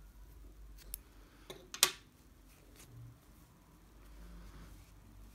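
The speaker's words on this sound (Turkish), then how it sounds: "Bir zincir çekip ipi burada kesiyorum." Scissors snip through crochet yarn after a chain stitch, a single sharp close cut amid faint handling clicks and quiet room noise.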